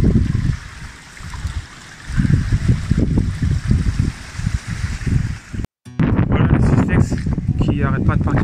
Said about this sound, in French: ça fait une petite cascade ici qui mène tout dans la mare